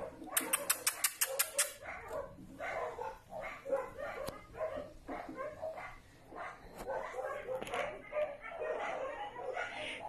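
Puppies bark at an animal shelter, a rapid burst of sharp yips at the start followed by scattered barks and whimpers, with a person talking over much of it nearby.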